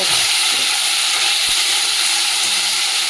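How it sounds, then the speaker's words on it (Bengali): Fish frying in hot oil in a wok makes a constant hissing sizzle, fairly loud and even from start to finish, with no voices. "চলো মাছগুলো এই যে ভেজে নিয়ে তারপরে মাছের তেলটা ভাজবো।"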